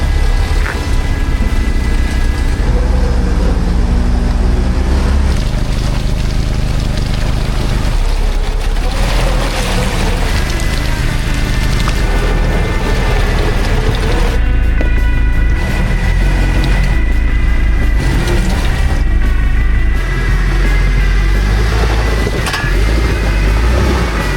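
A Jeep on 31-inch tires climbing a steep off-road grade, a loud continuous engine drone with roaring revs and bumps and rattles over rough ground, steady throughout.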